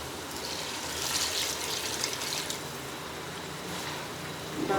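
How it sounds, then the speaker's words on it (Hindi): Water is poured into a pot of masoor dal as it cooks, a steady wash of gushing liquid running alone at moderate, even loudness for several seconds. "अब इसमें थोड़ा सा पानी ऐड करते हैं।"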